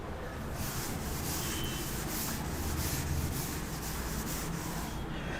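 A board being rubbed clean with a duster in a classroom, a steady continuous scrubbing hiss with faint rhythmic strokes and no speech.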